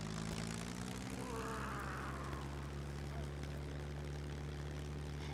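In the video game SCUM, a propeller airplane engine drones loudly and continuously as the plane gathers speed, a steady buzzing hum with strong low harmonics throughout.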